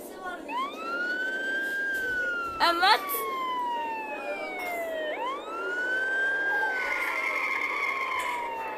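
A police siren wails nearby, rising and falling in long sweeping tones, with a brief burst of rapid yelp in the middle and a voice speaking briefly.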